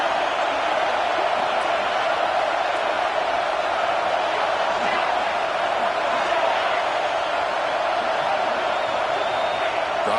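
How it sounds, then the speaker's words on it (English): A stadium crowd in a football video game roars steadily on a third down, a loud, dense wall of cheering that holds without pause for the whole stretch. "3rd down and the crowd really getting into it"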